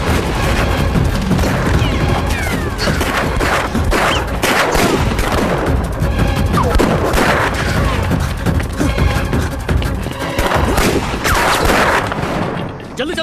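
Rapid, loud gunfire crackles nonstop in a dense barrage, with booms and shouting voices mixed into the chaos.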